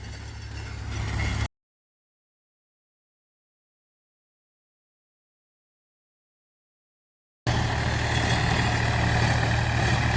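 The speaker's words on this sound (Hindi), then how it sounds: "दोस्तों अब दूसरे क्यारे को जोत रहा है ट्रैक्टर" A tractor working a field with a rotavator, preparing the next plot. Its engine drones steadily and loudly in two stretches, split by a long silent gap in the middle.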